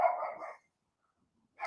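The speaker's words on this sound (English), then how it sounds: "the neighbor's dog" A neighbor's dog barks once, a short yelping bark of moderate loudness, followed by silence and the start of another bark at the very end.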